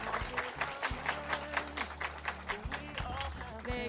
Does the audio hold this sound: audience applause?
yes